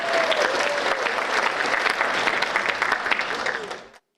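Loud, continuous applause from a congregation at a 75th birthday worship service, dense clapping that holds steady for about four seconds before cutting off, with some voices mixed in underneath.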